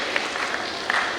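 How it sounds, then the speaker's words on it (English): Short burst of audience applause at a school investiture ceremony, a busy broadband patter of many hands at moderate loudness. "Give a huge round of applause."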